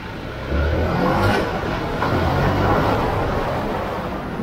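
A Harley-Davidson Pan America adventure motorcycle cruising on a highway, its engine a steady low drone mixed with broadband wind rush, loud and continuous throughout without speech.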